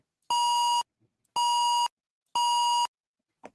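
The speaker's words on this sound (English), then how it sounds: "square waves sound much more digital" Three identical square-wave beeps from MakeCode Arcade sound at an even pace, each a bright, steady digital tone about half a second long, separated by short silences.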